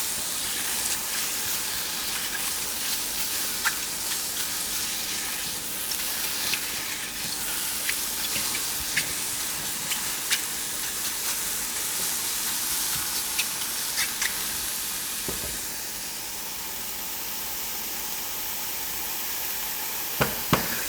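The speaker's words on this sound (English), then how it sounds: "As you can hear, they're starting to fry now." Continuous crackling sizzle of mushroom ravioli frying in a pan, loud and steady, with scattered pops and a slight drop in intensity near the end.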